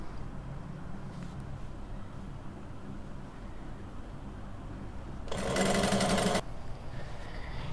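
Sewing machine stitching fabric in one short, loud burst of about a second, heard against a steady background hiss with no talking.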